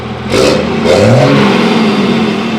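A loud truck engine revving hard through a throaty exhaust, rising and holding a rough roar up close for a couple of seconds.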